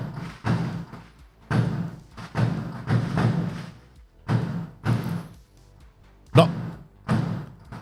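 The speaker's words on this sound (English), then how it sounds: "there's not gunfire, there's just fireworks" Fireworks going off outdoors: a series of muffled, thudding booms at irregular intervals, some closer and sharper, with no voices.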